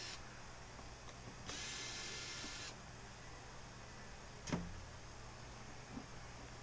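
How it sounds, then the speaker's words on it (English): A power driver backs screws out of the top cover of an Automower 450X robotic lawn mower. Two short whirring bursts, the second lasting about a second, sit over a quiet background, followed by a single faint click. "watch me turn screws out of a top cover of an automower"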